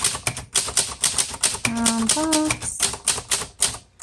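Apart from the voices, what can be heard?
typing on a 1958 Cole Steel travel typewriter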